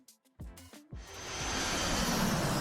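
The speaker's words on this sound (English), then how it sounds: "Oh, that's the airplane." An airplane's engine roar swells in and holds as a loud, steady broadband rush after a few brief voice sounds at the start.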